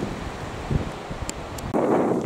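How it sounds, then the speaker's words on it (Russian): Strong wind gusting across a riverbank during a fishing trip on the Pra river, a steady broadband roar with buffeting bursts that swell louder near the end, with no talk. "Ветрище, блин."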